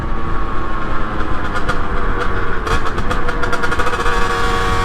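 A 2023 Rieju MRT50 Trophy SM Pro 50cc motorbike engine drones loudly and steadily while riding, with a busy, buzzing two-stroke tone and rough wind-like rumble throughout.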